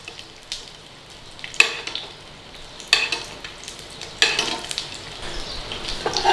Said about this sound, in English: you can just fry your egg in a pan